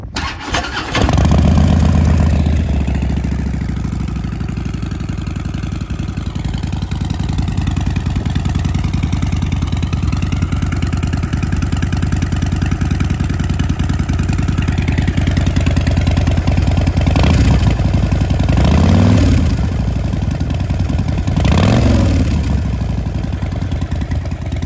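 A 2014 Harley-Davidson Street Bob motorcycle fitted with homemade quiet baffles starts up and settles into a loud, steady idle close by, with a couple of brief throttle blips toward the end.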